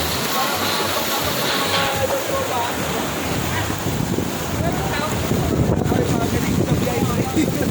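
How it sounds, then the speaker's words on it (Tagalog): A river overflowing its banks during a typhoon rushes as a dense, continuous roar of floodwater mixed with heavy wind buffeting, loud and close throughout, with a voice speaking briefly over it. "Guys, umapaw na yung ilog dito."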